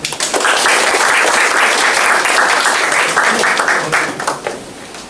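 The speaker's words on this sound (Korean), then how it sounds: "박수로 한번." A church congregation claps for a guest during a worship service, a full and loud round of applause that stays even and then tapers slightly at the end.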